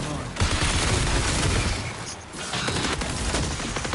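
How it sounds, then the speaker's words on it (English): Grenades exploding amid heavy gunfire in the video game Marathon, a dense, loud barrage of blasts and rapid shots running almost continuously with a brief dip midway. "Oh, he's throwing grenades!"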